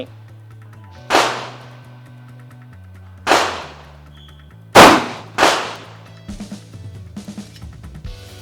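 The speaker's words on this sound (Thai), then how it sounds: "มา ยิงที่ทางด้านซ้ายนะครับของตัวไม้" Four loud, sharp reports from a Colt 38 Super pistol fired at a wooden target, with irregular gaps between them and then a few softer clatters.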